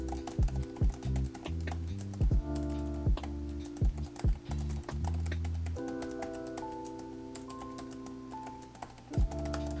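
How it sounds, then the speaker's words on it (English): Fingers type on the chiclet keyboard of an MSI WS66 15-inch workstation laptop, with quick bursts of soft key taps in irregular runs. A low tonal hum sits beneath the close, quiet clicks. "Here is what the keyboard sounds like."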